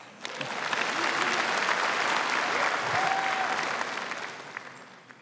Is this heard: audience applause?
yes